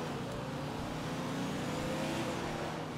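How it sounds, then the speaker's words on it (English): A loud Ford Mustang engine in a racing game, a steady droning rumble of a car driving at sustained revs throughout, fairly distant and even in level with no pauses. "I'm trying to race a loud Mustang."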